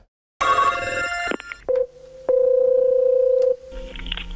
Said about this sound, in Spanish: Se ha cortado el teléfono otra vez.